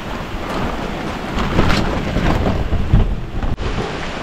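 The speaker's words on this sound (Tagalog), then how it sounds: "malakas pa rin po yung ulan," Heavy rain pours down in a steady, dense roar close by, with gusts of wind buffeting the microphone and a sharp knock near the end.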